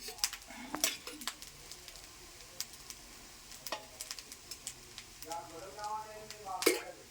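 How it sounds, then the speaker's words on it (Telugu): Egg rice with salt and garam masala being stirred in a frying pan: soft scraping and clinks of a utensil against the pan over a faint sizzle, with brief voices and background noise in a village kitchen. "ఇప్పుడు మంచిగా కలపాలి"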